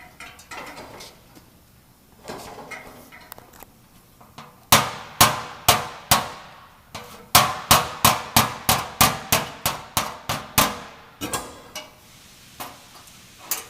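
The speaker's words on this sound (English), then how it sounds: "I'm kind of hammering it in towards the low area, just so it'll kind of move the metal towards that area" A hammer taps a car's sheet metal in a series of sharp, ringing clangs during dent repair, coming in bursts with a steady rhythm and brief pauses between groups.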